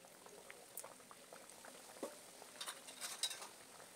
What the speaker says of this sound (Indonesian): minyak sudah panas jadi langsung aja mau aku goreng